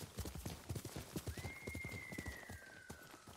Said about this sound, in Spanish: Yo agarro el caballo para ir un poquito más rápido